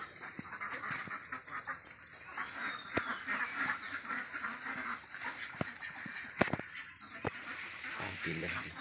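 A farm flock of ducks quacks and honks continuously in a busy, moderately loud outdoor scene, with scattered sharp clicks and knocks.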